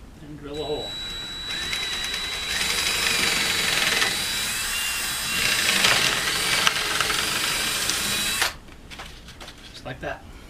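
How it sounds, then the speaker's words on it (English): A power drill whines steadily for several seconds, its pitch shifting as it bites into a round window frame, then cuts off abruptly; light handling noises follow. "and drill a hole"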